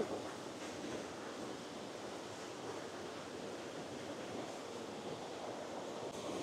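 A mountain stream and waterfall rush beside the trail up to Phu Pha Man in Khammouane, Laos, a steady, even wash of flowing water with no voices.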